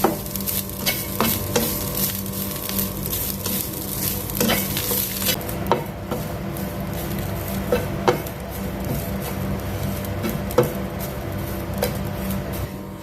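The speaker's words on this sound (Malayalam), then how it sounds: "നാളികേരം ഒരു ബ്രൗൺ കളർ ആവുന്ന വരെ നമുക്ക് വറുത്തെടുക്കാം" Grated coconut is roasted over a low flame until brown, for a Kerala-style roasted-coconut chicken curry. A spoon scrapes the pan in steady rhythmic strokes over a soft continuous sizzle, close and fairly loud, with no voices.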